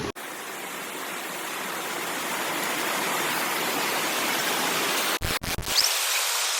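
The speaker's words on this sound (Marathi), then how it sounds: "ही पाण्याचा फ्लो बघा" Water flows steadily along a hillside stream below a waterfall in a rural village, a continuous rushing hiss close to the microphone, broken near the end by a few sharp handling bumps.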